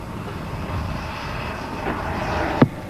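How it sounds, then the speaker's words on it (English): Jet-powered model airplane turbine during a landing at a 1994 radio-control competition, a steady broad whooshing roar at moderate distance with a brief sharp knock near the end. "A real jet-powered airplane."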